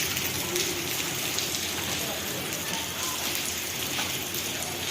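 Heavy rain pours down during Cyclone Jawad, a dense, steady hiss that holds level throughout with scattered brighter drops, loud and close with no clear talk over it.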